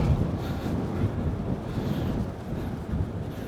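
Wind buffeting a small microphone with a wind muff clipped to a cycling helmet on a breezy day, a continuous low rumbling gust noise throughout.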